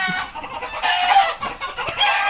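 Several chickens cluck and a rooster crows nearby, overlapping calls forming a busy, continuous farmyard chorus without any talking.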